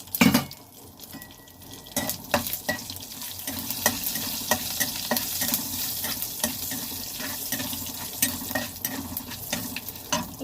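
Five-spice, bay leaf and dried red chilli frying in hot mustard oil, a steady crackling sizzle with sharp pops and spoon scrapes against the pan, close and fairly loud throughout, with no talking.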